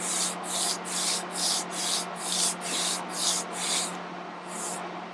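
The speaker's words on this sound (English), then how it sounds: "I actually do an 8 count when I'm sanding." A guitar fretboard being sanded with a sanding block, a rhythmic series of about ten even back-and-forth rasping strokes, close and steady, ending in a brief pause before one last stroke.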